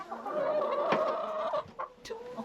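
Backyard chickens clucking close by in a steady run of loud calls with a few sharp squawks, heard alone without talk.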